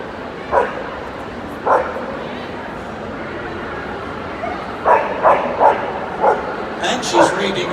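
A dog barks in short sharp yips scattered across a busy indoor Crufts display team show, the calls coming in irregular bursts over a steady crowd hubbub and background voices.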